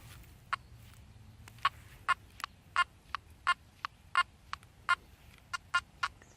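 Short, high electronic chirps from a Makro Multi Kruzer metal detector signalling on a dime repeat irregularly over several seconds, fairly loud and close, against a faint low hum.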